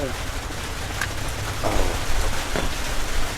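Steady rain falls close by, a dense, even hiss that fills the whole stretch and swells a little partway through, with no break or lull.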